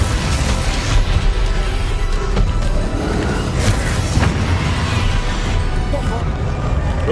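Incendio, a fire spell in the video game Hogwarts Legacy, is cast amid loud, dense in-game combat, with booming impacts and whooshing bursts layered over a constant rumbling backdrop.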